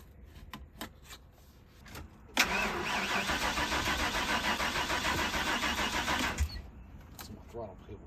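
An old RV engine that has sat unmoved for fifteen years cranks briefly and catches, then runs loudly and steadily for about four seconds before cutting off, with faint clicks and handling noises before and after.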